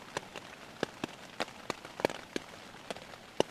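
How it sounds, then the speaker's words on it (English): Raindrops patter irregularly on a tent on Owl Head Mountain as a storm begins, separate close taps over a soft hiss. "And the rain has started."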